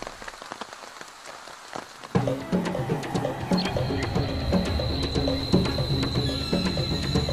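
Monsoon rain falls in October on a forest in Sigiriya, drops pattering and splashing densely on leaves and surfaces, starting lighter and then building into a steady, close downpour.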